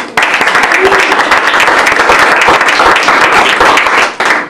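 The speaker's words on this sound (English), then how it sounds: "Let's give her a round of applause" An audience gives a sustained, loud round of applause for a woman marking her 30th year in Fairfield, dense clapping filling the whole stretch before tapering at the end.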